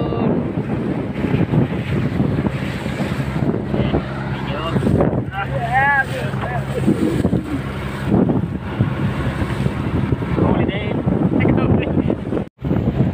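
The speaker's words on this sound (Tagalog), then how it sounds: "malakas ang hangin at saka medyo umulan na rin" Strong wind buffets the microphone in rough gusts on Manila Bay, with light rain falling and voices talking intermittently over the rumble.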